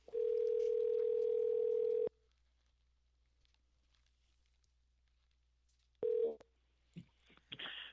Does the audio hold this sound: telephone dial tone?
yes